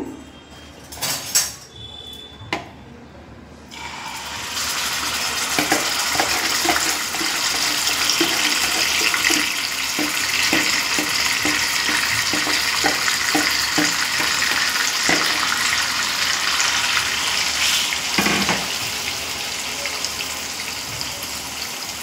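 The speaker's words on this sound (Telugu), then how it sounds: "ఇప్పుడు ఆయిల్ కూడా హీట్ ఎక్కిపోయింది. ఇప్పుడు మనం మ్యాగ్నటైజ్ చేసిన చికెన్ని ఇందులో వేసుకుంటున్నాను." Marinated chicken hits hot oil in a pan, sparking a loud, steady sizzle that carries on after a few clinks of utensils at the start.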